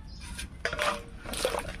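Water pours into a cooking pot of cut potatoes for a Bengali fish curry with cauliflower, a short, soft splashing trickle in two brief surges.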